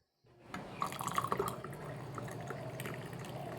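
Hot water is poured into a glass holding lemon and honey for chia seed water, a steady, faint liquid stream starting abruptly and running on without a break.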